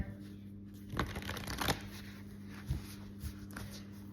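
Cards from a Moonology oracle deck are handled and one is drawn, giving a few soft papery riffles and snaps up close over a faint steady background hum.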